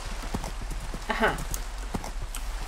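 Horse hooves clip-clop at a steady trot in Minecraft, a run of light, even hoofbeats heard under a player's voice and low background hum.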